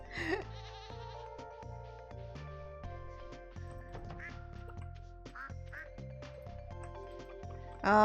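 Ducks quacking in the video game Stardew Valley, several short, fairly faint quacks scattered over a bright, steady game music track, with no talking over them.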